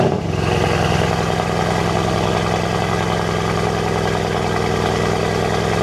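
A Mercedes C63 S with catless downpipes fires up with a brief rev, then settles into a steady, loud, rumbling idle close by, with no voices.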